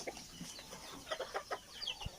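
Newly hatched red junglefowl chicks peep in a quick series of faint, high, short chirps, close and fairly quiet.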